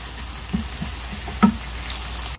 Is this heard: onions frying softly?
yes